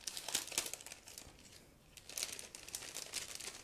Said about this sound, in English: we are going to start with this plastic bag